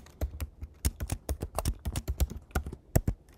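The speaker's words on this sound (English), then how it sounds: "I think, I'll just type it in." Rapid, uneven keystrokes on a computer keyboard as a password is typed, close and fairly quiet, with irregular clicks and a few sharper key hits and no talking.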